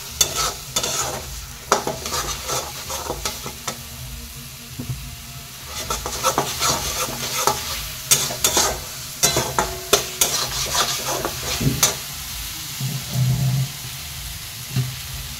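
Mutton being stirred and fried in a pan with cooked-down masala, a steady sizzle broken by repeated scraping strokes of a spoon against the pan, close and fairly loud, with no talking.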